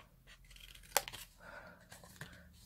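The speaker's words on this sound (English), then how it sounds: "Then all of these lines here we're going to cut up to the score line." Scissors snip through craft card stock up to a scored fold line, giving one sharp close cut followed by softer trimming crinkles, quiet and without talk.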